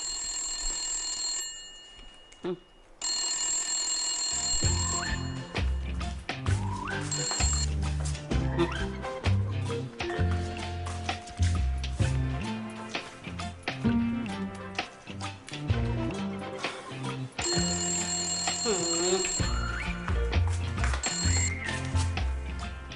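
Telephone bell ringing in a comedy series episode, repeated bright ringing bursts over busy music and clatter, fairly loud and persistent through much of the stretch.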